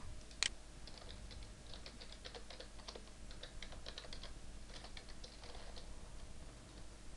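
Rapid, uneven typing on a computer keyboard, with light clicks running steadily for several seconds under faint background hum, close and fairly quiet.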